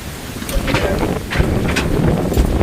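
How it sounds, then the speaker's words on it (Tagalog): Strong wind roars steadily into the microphone outdoors on Burias island, a constant loud rumbling buffet with gusty surges and no talking over it. "grabe talaga ang hangin"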